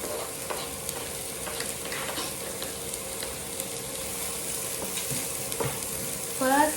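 Onions frying in a pan for Indian-style Maggi noodles, a steady low crackling sizzle with repeated scraping stirs throughout, moderately close, and a louder stirring burst at the end.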